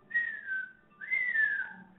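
A person whistles two sliding, descending tones, imitating the whistling of windmills turning in the wind along the Camino de Santiago; close, clear and alone.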